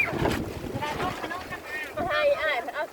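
Strong wind buffets the microphone outdoors at a rural home, a rough, gusting rumble running under people talking.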